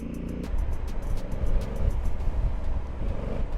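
A 2020 Honda Africa Twin Adventure Sports CRF1100L motorcycle with DCT gives a steady, loud engine growl with road noise, heard up close from the rider's position.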